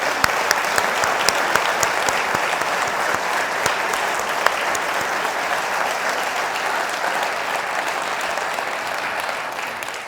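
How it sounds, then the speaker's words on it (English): A lecture audience applauds in a long, sustained round of clapping, steady and moderately loud throughout, with individual sharp claps standing out near the front. "I'd like you to give a round of applause to all my colleagues who made that happen"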